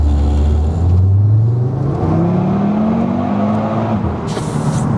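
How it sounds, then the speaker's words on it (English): A 2.5-litre five-cylinder Audi TT RS engine accelerates hard, a loud, close warbling drone climbing steadily in pitch through the gear, with a continuous rumble underneath and no voices. "that's what gives us that sort of notable 5-cylinder warble sound that this car's got"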